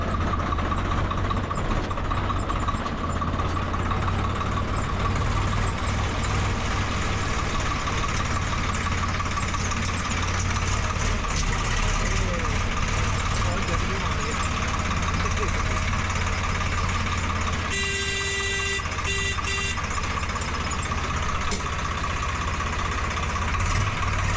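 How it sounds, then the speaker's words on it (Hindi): A new Swaraj 855 4x4 tractor idles with a steady, loud low rumble that runs unbroken for the whole stretch, with a brief burst of extra noise near the end. "और फाइनली हमारे घर पे आ गया हमारा ट्रैक्टर"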